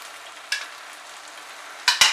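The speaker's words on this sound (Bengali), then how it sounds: "মশলাটাকে এবার আমি হাই ফ্লেমে কষাচ্ছি" Spiced masala for a Bengali egg curry (dimer kalia) frying on high flame: a steady, close sizzle with a few sharp scraping stir strokes, one early and two near the end, and no talking.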